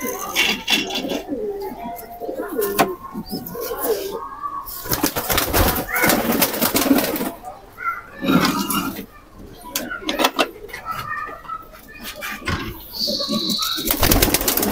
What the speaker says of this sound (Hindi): और पुरानी नस्लों के कबूतर हैं सारे